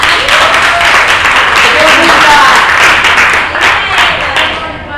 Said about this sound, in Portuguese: Palmas vocês!